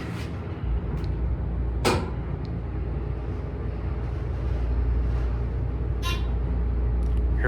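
A Dover Impulse hydraulic elevator with 3,000-pound capacity at a Sheraton Suites hotel: a couple of sharp clunks as the door closes, then a steady low hum and rumble as the car travels, loud and close, with no talk.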